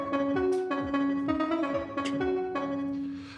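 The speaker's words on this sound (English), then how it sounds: "which sounds like this, has this lovely sort of echoey tail to it." Bastl THYME+ multi-tap tape delay pedal running a preset: plucked synth tones repeat as echoes with gliding, pitch-bent tails, leaving a lingering echoey wash, moderately quiet with no speech.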